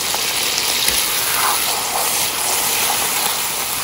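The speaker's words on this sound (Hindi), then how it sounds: "भूनने के बाद इसमें मैं पानी शामिल कर रही हूँ।" Water poured into a mutton karahi mid-cooking makes a steady, close rushing gush that runs unbroken for the whole stretch, with no one talking.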